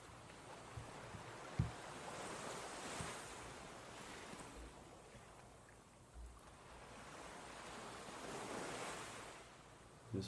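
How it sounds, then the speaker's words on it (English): Ocean waves wash in soft and continuous, swelling and receding in broad surges with light wind noise, with no voices over them. "We have the ocean waves in the background"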